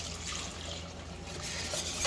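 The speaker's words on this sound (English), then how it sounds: "I'm going to go ahead and take 4 cups of milk and pour that in there." Milk is poured steadily into a thick butter-and-flour roux in a pot, making a continuous close liquid trickle and splash that lasts about two seconds, with no talking.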